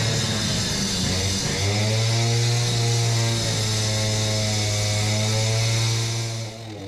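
A saw struggling through a cut while pipe is being installed in a floor: a loud, continuous motor whine with a strong humming drone that shifts pitch as it bogs down, then eases off near the end, with no talk.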